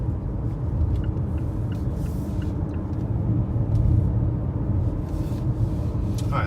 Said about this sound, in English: So now I am controlling the acceleration and the braking of the vehicle.